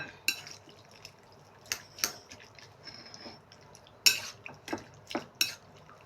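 A utensil stirs spare ribs through black bean marinade in a dish, with sharp clinks against the bowl and soft wet sloshing between them, spaced irregularly and close up, no one talking.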